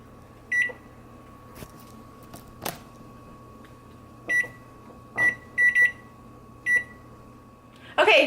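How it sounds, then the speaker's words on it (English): A kitchen timer is set with a string of short beeps spaced unevenly, some in quick pairs, against a steady low hum and faint background noise, ending in a brief louder burst. "I'm gonna set a timer."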